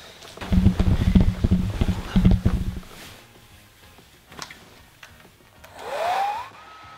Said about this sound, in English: now quickly I'm gonna blow dry my hair